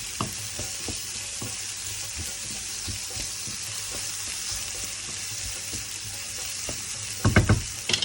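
Onions, garlic and ginger fry in a hot pan for chicken korma, making a dense, constant crackling sizzle with soft stirring taps throughout, then a burst of louder clatter near the end, and there is no talking.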